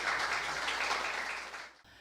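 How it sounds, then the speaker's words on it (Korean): Audience applause fills a hall at a trade association's essay competition ceremony, a steady dense wash of many hands that holds evenly, then fades and cuts off abruptly. "큰 박수 부탁드리겠습니다."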